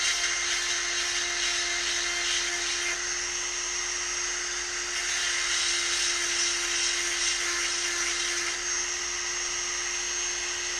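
A power sharpener grinds a saw chain, giving a continuous high-pitched whining buzz that holds steady and loud at close range for the whole stretch, without pauses.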